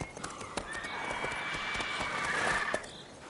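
A horse's hooves clip-clop in The Witcher 3: Wild Hunt, a steady beat of close hoof strikes under a brief whinny-like tone, moderately loud throughout.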